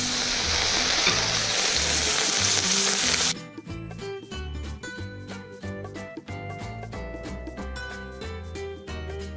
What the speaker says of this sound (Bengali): মাছ ভাজার সময় গ্যাসটা মাঝারি করে রাখবেন।